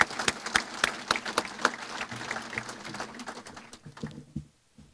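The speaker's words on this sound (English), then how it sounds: "Yeah, I think that is a clap." Audience applause at a military change of command ceremony, steady crisp clapping from a modest crowd that ends abruptly in near silence.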